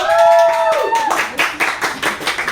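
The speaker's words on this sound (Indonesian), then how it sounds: "Kepada Kak Vina, beri tepuk tangan yang meriah dong." An audience at an open mic night claps together in a lively burst of applause, rising after a short melodic tone fades out.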